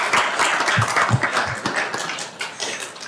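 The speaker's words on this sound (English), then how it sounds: "Let's hold the claps if you don't mind" Scattered applause from a city council meeting audience, with a few distinct claps standing out over a brief patter that thins toward the end.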